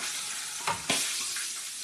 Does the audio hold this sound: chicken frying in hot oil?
yes